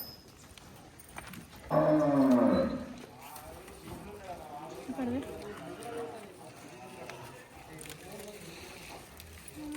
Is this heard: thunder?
no